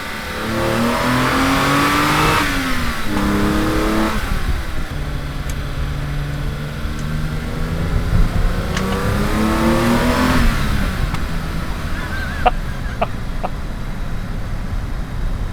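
A BMW E28 M5 engine revs hard and climbs through repeated rising sweeps, loud and close, then eases off toward the end with a few sharp clicks.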